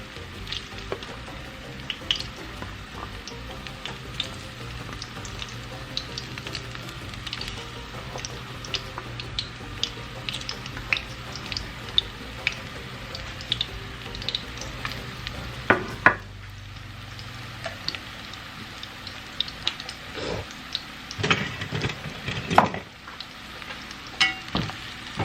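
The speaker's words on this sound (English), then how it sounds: "So I'm gonna fry these up." Sliced plantains frying in hot oil in a pot, a continuous crackling sizzle with scattered pops and occasional stirring clinks and scrapes, close and steady throughout without talk.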